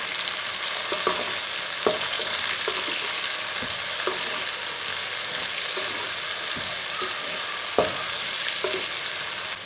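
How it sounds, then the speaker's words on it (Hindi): Chopped tomatoes with garlic and green chillies frying in a pan, giving a steady hissing sizzle with occasional light clicks from stirring, close up and without speech. "टमाटरों को भी 3 मिनट तक भून लेंगे।"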